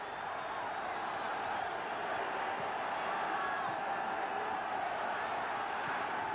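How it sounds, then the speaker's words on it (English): Steady roar of a pent-up football crowd at the Den stadium during a 1970s Millwall match, a continuous distant wash of voices with no distinct chants, holding level throughout. "I think not only to the relief of the players, but to this pent-up crowd at the Den as well"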